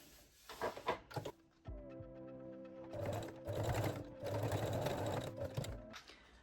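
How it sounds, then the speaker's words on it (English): A sewing machine straight-stitches the seam allowance of high-waist panties, whirring in short runs with clicks and handling noises around them. "you can also sew the seam allowance from the side seam to the back, just with the straight stitch"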